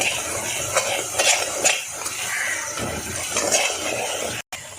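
Spoon scraping and clinking against a pan while mussel pickle mixture with ginger, garlic, fenugreek and roasted chilli powder is stirred, a few distinct scrapes over a steady soft sizzle, close and moderately loud.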